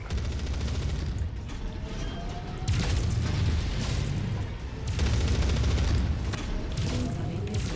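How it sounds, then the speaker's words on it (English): AC-20 autocannon firing bursts in the MechWarrior 5 mech combat game, heavy booming shots that pile into loud, dense rumbling salvos with short lulls between them across the whole stretch. "this AC-20 burst fire is doing very well"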